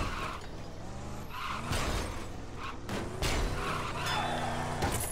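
Cars race and skid in the LEGO Dimensions video game, with engine drone, tire squeals and clattering mechanical bursts rising and falling over a steady game soundtrack.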